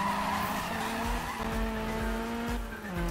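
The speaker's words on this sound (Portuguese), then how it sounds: "Eu nunca tô conseguindo fazer uns drift tão bonito." A Toyota Corolla AE86 drifts in the racing game Need for Speed (2015), its tires squealing continuously over a steady engine drone that shifts pitch as the car slides. The sound is loud and constant throughout.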